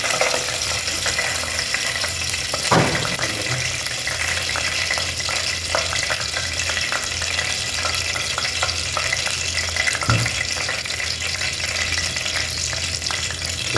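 Mustard seeds fry in hot oil for pepper rasam, giving a steady, even sizzle close by, broken by a couple of sharp knocks, with no voices.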